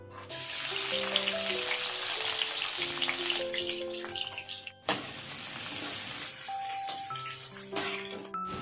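Running water and splashing as cut squash, already trimmed, is washed in a home kitchen, a steady broadband wash lasting the whole stretch beneath louder background music.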